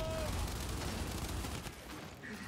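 Gears 5 gunfire crackles in a dense continuous burst during a ranked Control match, loud and close with low rumble underneath and a brief tonal game cue near the end.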